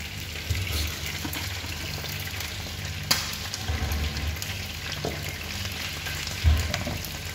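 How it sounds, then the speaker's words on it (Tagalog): Chicken feet sizzle and crackle steadily in frying oil in a pan, with occasional louder pops and clinks, and no one speaking. "luto na yung piniprito namin"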